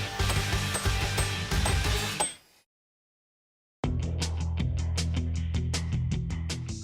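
A ratchet tightens bolts on a neglected gazebo being rebuilt, with rapid, loud, close clicking for a few seconds, then a stretch of silence, and the rhythmic ratcheting starting again.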